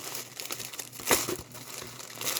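Crinkling and tearing sounds come from a mail package being cut open during a mailbag unboxing, with one louder crunchy rip in the middle of a steady rustle.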